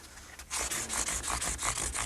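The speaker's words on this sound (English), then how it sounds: "Now I'm going to go to 600 grit sandpaper and work progressively finer until we get to 1500 grit sandpaper" Fine-grit sandpaper, 600 working up to 1500 grit, rubbed back and forth over a guitar fret in steady repeated strokes, a close, dry rasping scratch with a regular rhythm and no talking.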